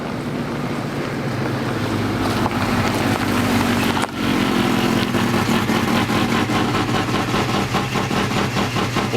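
A restored 1972 Chevrolet C10 pickup with a carbureted engine idles steadily nearby, its low rumble partly buried under heavy outdoor wind noise.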